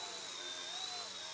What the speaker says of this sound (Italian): E ora proviamo anche ad armare i motori e decollare.